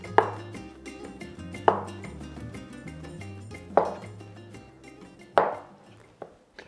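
A knife slicing avocado into wedges on a cutting board, four crisp, evenly spaced chops striking the board, each followed by a short fading ring, then a lighter final tap, close and quiet with no talk.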